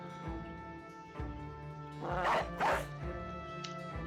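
A dog barks a couple of times amid the busy soundtrack of the game Battle Brothers, with a few short yips over the background.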